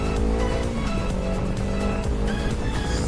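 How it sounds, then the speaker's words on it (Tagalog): Continuous car traffic on the SLEX highway, a steady broad rumble of engines and tyres on the road, close and loud for the whole stretch with no talking. "Traffic yan."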